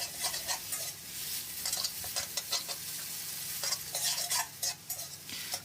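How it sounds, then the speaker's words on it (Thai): Glass noodles with egg stir-frying in hot oil in a pan: a loud, close sizzle under repeated scraping and tossing strokes of a spatula in an uneven rhythm, with no voices. "ผัดคลุกเคล้าให้เข้ากับน้ำมันได้ที่แล้วนะครับ"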